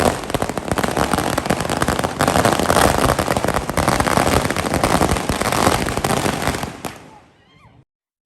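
Diwali firecrackers burst in a dense, continuous crackle of rapid pops and bangs, loud and close, running for about seven seconds before dying away into near silence.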